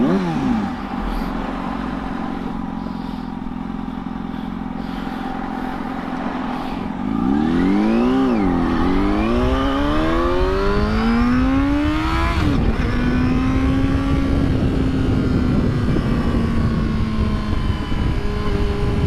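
A Yamaha R6 motorcycle under way, its engine droning steadily before it revs up sharply through several rising, falling pitch sweeps, then holds a loud, steady high-revving whine.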